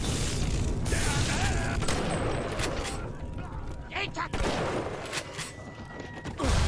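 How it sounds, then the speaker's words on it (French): Bioshock Remastered gameplay fills the clip with dense booming blasts and gunfire-like bursts, loud and continuous, with a sharper burst near the end. "mais ça explose, ça"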